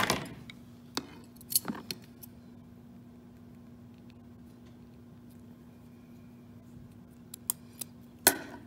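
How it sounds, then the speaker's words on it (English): Scissors cut suede cord for a bracelet in a quiet room, giving a few sharp, close snips scattered at the start and end over a faint steady hum. "So I'm going to cut this at 10 inches."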